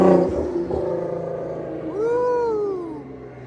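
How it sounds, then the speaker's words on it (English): An 800+ horsepower Nissan GT-R rumbles close by, then a rising and falling turbo whistle sings out through the exhaust for about a second, loud and near. "I really hope you guys can hear those turbo whistles in the exhaust."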